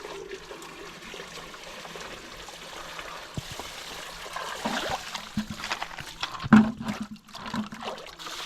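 Pool water is poured through a salt cell, making a steady trickling stream that grows into louder splashing and gurgling near the end, close by.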